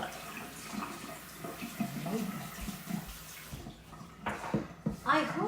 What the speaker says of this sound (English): I'm just going to rinse this now